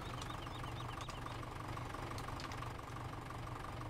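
A tractor engine idles steadily in Farming Simulator 17, a low knocking rumble that stays even and fairly quiet throughout with no voices.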